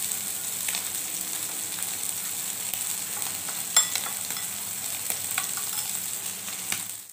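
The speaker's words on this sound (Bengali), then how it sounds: "আস্তে আস্তে ভাজা হোক" Small puti fish frying in oil in a pan, a steady close sizzle with scattered crackles and pops, a few sharper spatters standing out, no talk.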